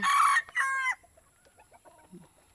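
A chicken lets out two loud, close, nasal clucks, each followed by a short break, then quieter scattered bird sounds.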